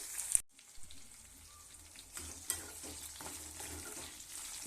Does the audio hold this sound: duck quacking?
no